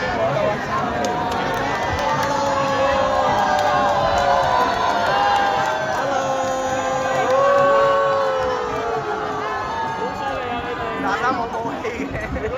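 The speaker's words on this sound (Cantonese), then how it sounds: "觀眾反應好熱烈啦" Crowd cheers and shouts at the Cheung Chau Bun Festival parade in Hong Kong, lively chatter and children's whoops rising and falling throughout, with a nearby voice talking over the din.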